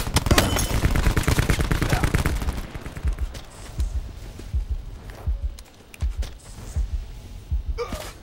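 A dense burst of rapid gunfire opens loudly, then scattered sharper sniper shots and thumps follow over a noisy background, with a brief voice, in the video game Call of Duty Blackout.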